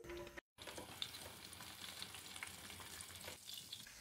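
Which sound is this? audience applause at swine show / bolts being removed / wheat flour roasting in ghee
wheat flour roasting in ghee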